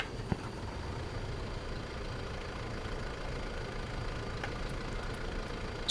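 A Massey Ferguson 600 series vintage tractor engine in Farming Simulator 22 runs with a steady low rumble and idle throughout, alone without talk, with a faint click near the start.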